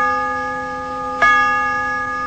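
Tubular chimes on an unusual instrument ring with steady sustained tones, and a single fresh strike near the middle adds a bright attack over the lingering resonance.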